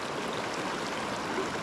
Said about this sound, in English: it's because of this turbulent water, real choppy stuff